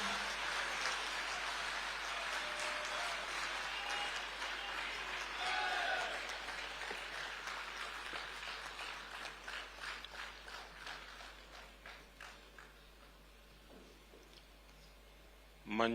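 A large hall audience applauds to welcome Prime Minister Narendra Modi at the Vibrant Gujarat Global Summit, a broad sustained wash of clapping that thins and fades toward the end.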